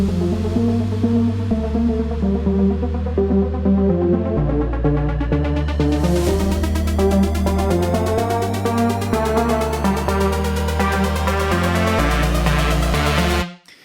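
Electronic music build-up with no drums: a sustained chord and bass pattern stepping through changes while reverb swells and a rising noise sweep climbs steadily brighter and louder, cutting off abruptly at the end.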